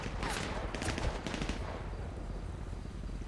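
Gunfire from the GTA 5 video game crackles in quick bursts of fairly faint shots over a steady background, with voices talking underneath.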